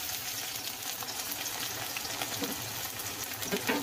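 Soft, continuous crackle of coconut dry-roasting in a pan until red, with a few light stirring scrapes near the end.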